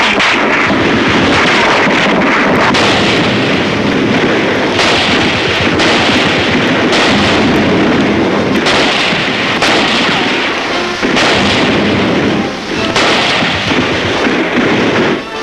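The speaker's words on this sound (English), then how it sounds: "But the Yanks can do a bit of sniping themselves." Sharp gunshots from sniping in a wartime street battle in Cherbourg ring out repeatedly amid a constant loud roar of battle noise, with dense, closely spaced reports throughout.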